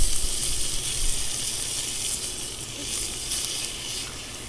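Thick cut bacon sizzling in a Dutch oven over a camp fire, a loud, steady crackling hiss that holds evenly throughout with no voices.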